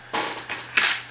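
Crochet yarn is snipped with scissors at the end of a finished medium cotton disc, giving three short crisp cuts in close succession with no talking.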